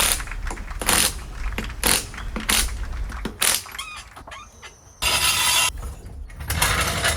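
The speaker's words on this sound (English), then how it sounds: "Then he brings it on home with the impact driver." In a garage, an impact driver runs lug nuts onto a wheel with a series of short, loud rattling bursts. A longer burst comes near the end.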